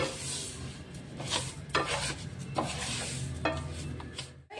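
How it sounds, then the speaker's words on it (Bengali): Washed and drained rice is stirred and fried in a pan, with repeated scraping and rustling strokes over a soft, steady sizzle, heard close and with no voices. "চালটাকে আমাকে ভালো করে ভাজতে হবে, যতক্ষণ না চালটা একটু সাদা সাদা হয়ে যায়।"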